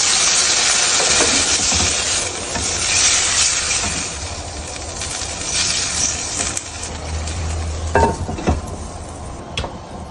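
Koi fish curry with beans and potatoes hisses and sizzles steadily in a pot as water goes in, with scattered clinks and scrapes of a utensil against the pan, no one speaking.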